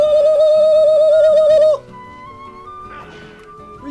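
Bird cooing inside the game Final Fantasy XIV, a steady warbling coo that holds loud for under two seconds and then stops, leaving quieter game ambience with a brief rustle.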